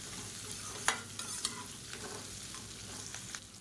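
Dried red chillies fry in hot oil in a pan with a steady sizzle as a spoon stirs them, its scrapes knocking against the metal in a few quick strokes.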